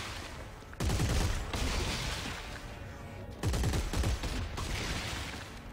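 A grenade launcher fires in the Dead Space 3 video game, two loud booming blasts a few seconds apart, each with a rumbling burst and lingering crackle, close and alone.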